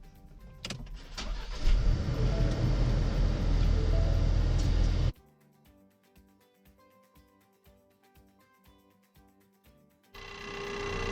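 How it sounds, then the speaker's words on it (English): A vehicle engine cranks and roars to life using a jumper box, running loud for several seconds, then drops to a quieter rhythmic idle or chiming interval before the engine noise rises again near the end. "Let's get this vehicle started."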